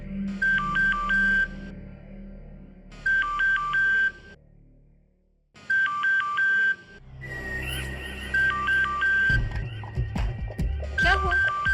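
A phone goes unanswered, its electronic tone sounding in repeated bursts with short silent gaps between them, followed by heavier background sound and faint voices underneath.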